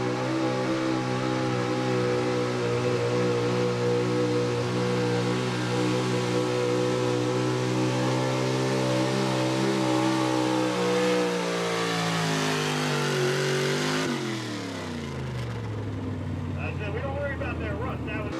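A 1979 GMC pulling truck makes a run at a truck pull. Its engine screams at a loud, climbing pitch that holds, then drops sharply near the end, and an announcer talks over the roar.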